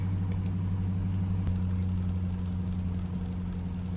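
A car engine rumbles low and steady nearby, idling or pulling away with a constant hum and no voices.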